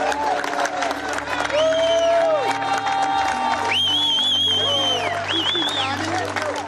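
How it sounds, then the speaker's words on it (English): Crowd at the first Recovery Walks event, hosted by the Connecticut Community for Addiction Recovery on a Sunday, applauding and cheering loudly with whoops and shrill whistles, while voices carry over the din. "I think we should all applaud each other for making it on a beautiful Sunday."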